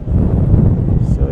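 Heavy wind buffets an outdoor microphone, a dense low rumble that roars steadily through the whole moment, loud and close, as someone rides electric boards and flies drones in gusty weather.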